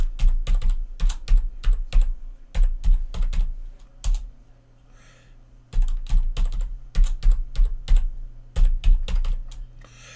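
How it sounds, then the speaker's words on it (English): A password is typed on a computer keyboard in quick bursts of close, crisp key clacks, with short pauses between groups of keystrokes and one longer gap in the middle. "now it's going to ask me to actually type in the password here"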